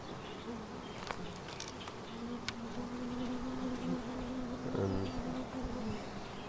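Honey bees buzzing around an opened beehive during a frame inspection, a steady close drone with individual bees humming past, and no voices.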